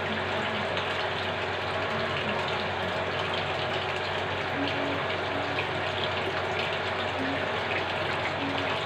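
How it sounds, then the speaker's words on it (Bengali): Water pouring and flowing out of a washing basin, a continuous close rushing gush over a low steady hum, unbroken throughout with no pauses. "এদিকে আর আমার গামলা দিয়ে জল বয়ে চলে যাচ্ছে, দেখতে পাচ্ছ?"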